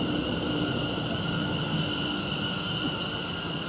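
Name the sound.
Greater Anglia train at Chelmsford station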